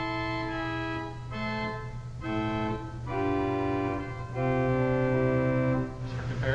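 A 1904 Kimball pipe organ in the Basilica of St. Josaphat in Milwaukee sounds its 8-foot gamba stop in a run of sustained chords that change every second or so, loud and reverberant, with no talking.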